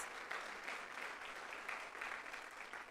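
Audience applause at a Miami-Dade College scholars induction ceremony, honoring a college trustee; a steady, even wash of many hands clapping throughout, moderately distant and fairly quiet, with no talk over it.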